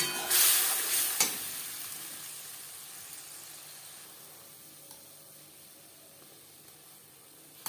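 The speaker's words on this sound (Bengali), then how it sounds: "জিরে ভেজে নেওয়ার পর দিয়ে দেব আদা, রসুন, পেঁয়াজ ও টমেটোর পেস্ট।" A paste of ginger, garlic, onion and tomato hits hot oil with fried cumin, bursting into a loud hiss that fades into a softer, steady sizzle, with a clink or two from stirring.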